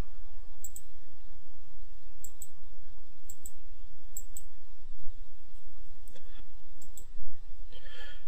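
A computer mouse clicks repeatedly at an irregular pace, each click sharp, close and fairly quiet, over a steady low background hum, with no talking.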